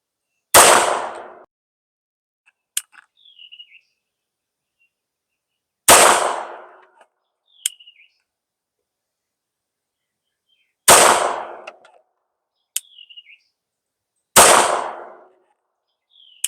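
A Girsan MC14T .380 tip-up barrel handgun fires four loud, sharp shots spaced several seconds apart, each with a short ringing decay, followed by faint metallic clicks between shots.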